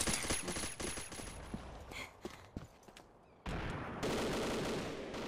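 Bursts of automatic weapon fire and single shots ring out in a Combat Arms round as a player fights recoil, dense early then sparser, followed by a steady background din.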